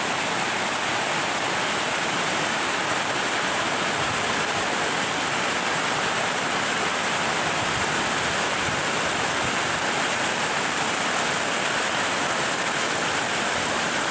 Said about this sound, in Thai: ชมบรรยากาศฝนตกชื่นใจ ชื่นใจไปก่อนนะคะ ชุ่มฉ่ำจริงๆค่ะวันนี้